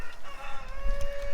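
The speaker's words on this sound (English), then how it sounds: "Rooster?" A rooster on a pasture farm where pigs are kept, crowing nearby in one sustained, strained call with steady harmonic tone over low outdoor rumble.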